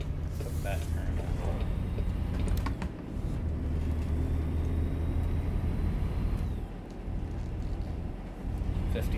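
Truck engine driving in American Truck Simulator, a low steady droning rumble that labors and shifts in pitch, with someone talking over it throughout.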